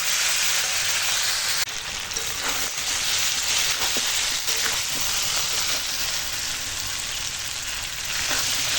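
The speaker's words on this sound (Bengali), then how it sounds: "এই যে কষাচ্ছি মশলাটা এর সঙ্গে তেল পাতাটাও ভাজা হয়ে যাচ্ছে" Oil sizzles steadily as spices, leaves and potatoes fry for chicken curry, a constant crackling hiss with occasional soft clinks and stirring scrapes, no talking.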